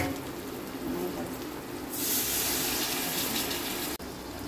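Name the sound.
pouring a little water into frying onions and prawns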